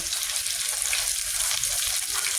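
Garlic sizzling in hot oil in a pan, a loud, steady, close crackle that fills the whole moment without any talking.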